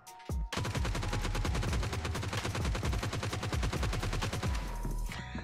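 Sustained full-auto bursts from a G36C rifle in the mobile shooter game PUBG Mobile, rapid evenly spaced shots firing for about five seconds, loud and close, with a short burst before the main string.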